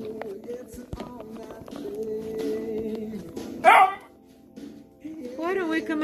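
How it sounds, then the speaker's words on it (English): A dog barks outdoors, giving a short burst of sharp, loud yelps midway over a background of household-type noise and human voices, then further yapping near the end. "Let's take this dog out."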